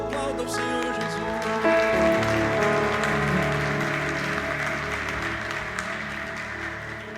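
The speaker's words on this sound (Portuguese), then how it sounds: "Aplauda o Senhor Jesus." Dense applause from a church congregation, a steady clatter of many hands clapping, with music tones sounding underneath at the start and fading as the clapping continues.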